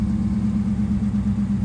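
A Dodge Charger R/T with the muffler and resonator deleted idles just after a cold start, giving a steady low, throbbing engine drone with an even pulse and no voices.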